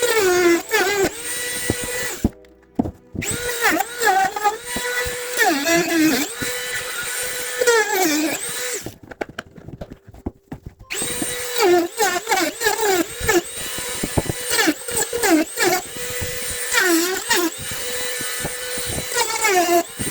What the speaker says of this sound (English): I'm gonna have to cut this down with the Dremel a little bit